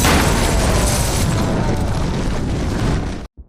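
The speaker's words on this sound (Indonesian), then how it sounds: "Oleh karena itu, Art menembak tabung gas untuk meledakkan bangunan itu bersama Biggie." A gas cylinder explosion blows up a building in a film scene, a loud, sustained roaring blast that holds for about three seconds before cutting off abruptly into silence.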